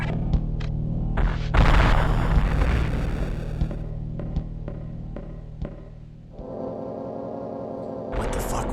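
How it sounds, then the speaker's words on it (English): Loud explosions in the video game Metroid Fusion boom repeatedly, with a big blast early on and rumbling impacts and sharp hits following, mixed with game sound effects. "And we hear the explosions above us, too."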